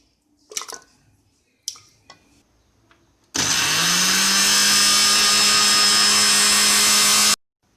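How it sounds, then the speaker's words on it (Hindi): An electric grinder whirs steadily for several seconds, blending eggs for a marble cake batter, after a few short clunks and knocks as ingredients go in; the motor hum is loud and continuous, then cuts off abruptly. "अंडों को हमने ग्राइंड कर लिया है"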